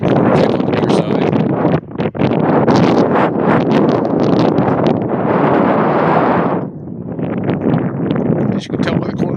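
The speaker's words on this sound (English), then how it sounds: "As you can tell by the corner flag, it is a bit windy out here tonight." Strong wind buffets an outdoor soccer field at a night middle-school boys' match, roaring steadily into the microphone with loud gusts and rumble, easing briefly then picking back up.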